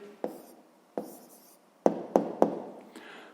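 A pen writing out a maths answer on paper, heard as a few sharp taps and short scratchy strokes close by, with brief pauses between them and no talking.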